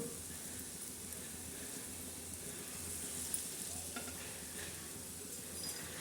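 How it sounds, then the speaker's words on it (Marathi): Wheat flour and jaggery gulgule roast in a pan with a steady, low sizzle and soft stirring scrapes, a continuous close frying texture with no talk. "हो तसे छान असे भाजत आहे बघा"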